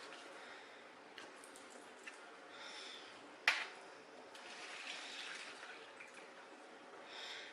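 Cold water splashing and trickling into a bowl, quiet irregular pouring and dripping with one sharper splash midway, close and faint.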